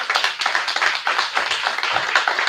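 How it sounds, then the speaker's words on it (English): Audience applause for a speaker being introduced at a precinct delegate meeting, steady dense clapping from a crowd throughout, fairly loud and close. "Everybody put your hands together for Mr."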